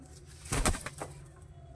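A female pigeon held in the hand gives a short flurry of wing flaps and soft sounds, close and brief, followed by a sudden loud bump at the very end.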